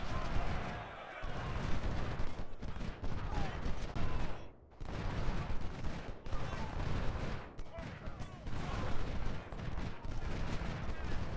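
Musket volleys crackle almost nonstop in the Civil War battle game Ultimate General: Civil War, a dense, rolling fusillade of distant massed gunfire with a short lull midway, while someone speaks over it.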